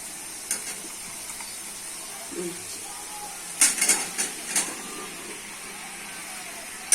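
Spices and potatoes being stirred and fried in a pan, with a soft steady sizzle and a few sharp scraping clatters of the spoon against the pan near the middle.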